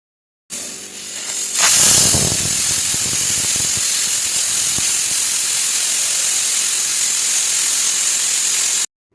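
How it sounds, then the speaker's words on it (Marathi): A pressure cooker of dalia lets off a loud burst of steam that settles into a strong, continuous hissing whistle and holds steady for several seconds. "हे पहा, आपल्या कुकरच्या 4 शिट्ट्या झाल्यात."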